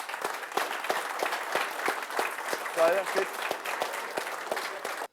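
Steady audience applause at a Warhammer 40k grand tournament, with many hands clapping together in a dense, continuous patter for several seconds while someone talks over it.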